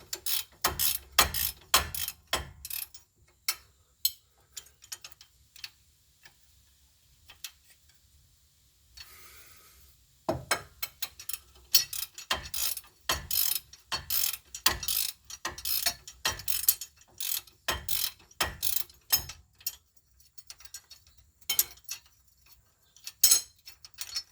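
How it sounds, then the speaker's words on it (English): A 22 mm wrench loosens the ball joint nut on a 2017 Jeep Wrangler, producing bursts of rapid ratcheting clicks up close, broken by a pause of near silence before the clicking resumes in quick runs. "Grab a 22 wrench and break it free. It should come free pretty easily. And then just get the nut off."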